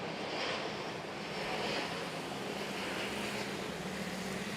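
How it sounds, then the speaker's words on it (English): A Singapore Airlines Boeing 787 Dreamliner taking off from runway 24 at Manila's NAIA airport, a loud steady jet engine roar with broad rushing noise that holds strongly throughout. "787 Dreamliner."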